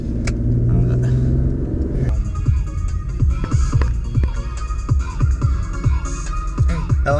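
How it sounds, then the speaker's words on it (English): Stop-and-go car traffic on a Los Angeles freeway, a continuous loud rumble of engines and tires from nearby vehicles, with repeated low throbbing surges as cars pass close by. "This is LA traffic for you guys."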